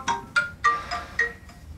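A mobile phone ringtone plays a short bright melodic pattern of five chiming notes in quick succession, moderately loud and clear in an indoor scene, with no talking.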